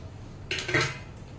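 Dry lentils (dal) tipped into a cooking pot for Bengali-style bhog khichuri, giving a short rattling, clattering pour of about half a second against the pot.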